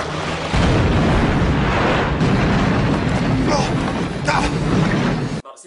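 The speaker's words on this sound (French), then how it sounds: "lance une grenade." A grenade explosion in the film Shark Attack 3: Megalodon, a loud sustained blast and roar filling most of the clip, over water and action noise, ending abruptly.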